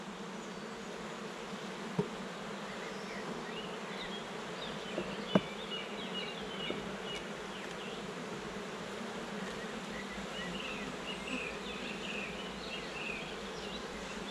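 Honey bees hum in a steady, even swarm around an open hive during an inspection of nucleus colonies, a constant close buzz with a few light clicks of frame handling.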